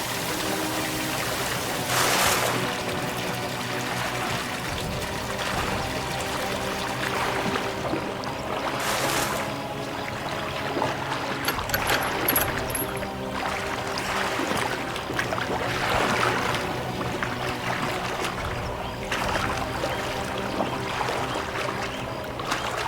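Water runs and splashes steadily indoors in a continuous wash with a few louder surges, close and moderately loud, with no talking.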